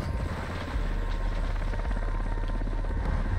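A helicopter from the Call of Duty: Modern Warfare 2 campaign thrums steadily and loudly with close, continuous rotor chop and engine drone, no voices over it.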